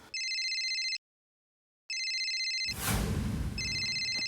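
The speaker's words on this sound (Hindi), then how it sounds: "दया का फोन।" A telephone rings in two bright electronic bursts separated by a pause, then a rustling noise, and a third ring begins at the end.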